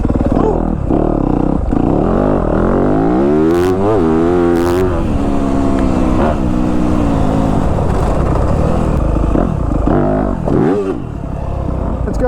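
Yamaha YZ250F Monster Energy Edition dirt bike engine on a wooded trail ride, loud and close, revving up and down through rising and falling pitches with clattering bumps along the way.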